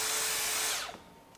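A Makita XSB01Z 18V brushless belt sander, used as a power file, runs briefly with a close, high whining buzz, then cuts off and spins down within about a second.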